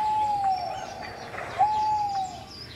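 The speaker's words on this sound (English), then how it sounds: "a screech owl," A screech owl sings two drawn-out, whistling notes in a children's animated read-aloud, separated by a short pause and heard clearly over a soft background.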